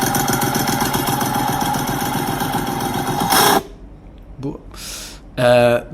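Scrambler motorcycle with an aftermarket exhaust running loud and close for about three seconds with a steady, buzzing idle, then cutting out, followed by brief handling noises and a short revving burst.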